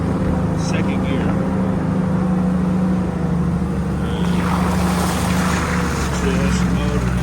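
A Jeep engine drones steadily in four-low while climbing an uphill trail, a continuous low rumble with harmonic hum running the whole time, with some wind or road noise rising toward the end and no clear talk.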